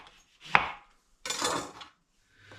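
A knife cuts through a lemon on a board in two crisp, close chops with a short crunch between them, alone in a quiet room.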